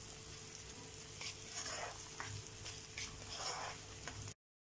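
Onions softening in seekh kebab oil in a karahi, a continuous close sizzle broken by several scraping stirs, with a faint low hum underneath before the sound cuts off abruptly near the end.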